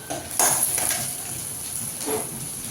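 Onions cook in a pan for egg paniyaram, with a soft steady sizzle under a few clinks of a utensil against the pan. The sound is close and moderately loud, and nobody speaks.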